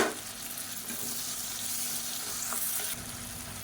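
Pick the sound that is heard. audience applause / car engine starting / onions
onions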